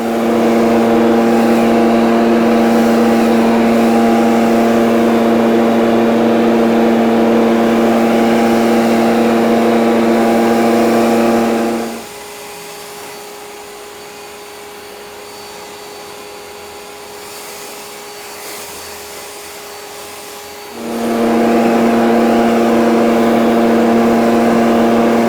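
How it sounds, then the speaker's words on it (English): STIHL BGA 300 battery backpack leaf blower blowing wet hay, a loud, steady close-up whine that drops to a low idle hum for several seconds before surging back to full power. "It is a pretty challenging material to blow, but the blower did really well."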